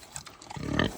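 A pig grunts at close range, with short snorts leading into a longer, louder grunting burst near the end.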